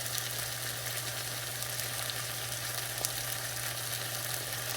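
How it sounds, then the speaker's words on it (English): A pan sizzles steadily as red wine vinegar is added, a continuous close frying hiss with a low hum underneath and no talking. "I'm going to use some red wine vinegar."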